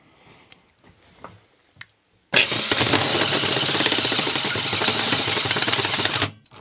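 A battery-powered cordless drill bores into a metal cash box, a loud, steady grinding whir lasting about four seconds after a few quiet handling knocks, then cutting off abruptly.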